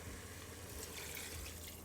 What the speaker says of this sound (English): Now I'll add in 300 milliliters of water